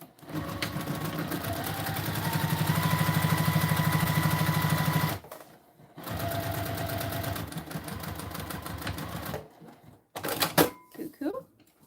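A sewing machine stitches a 3/8 seam on a fabric bottle sleeve, a loud, fast, steady mechanical whir in two long runs separated by a brief pause, then a few short clicks and taps.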